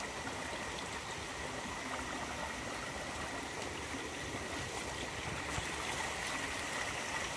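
A mountain valley stream flows steadily with a strong volume of water, a constant broad rushing and splashing wash that stays even throughout, with no voices.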